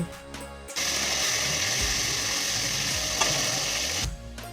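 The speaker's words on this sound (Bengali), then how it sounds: "এবার কড়ার মধ্যে মাছের মাথাগুলো দিয়ে দেব" Fish heads dropped into hot mustard oil in a kadai set off a loud, steady sizzle that starts abruptly and holds for about three seconds before cutting off, with no voices over it.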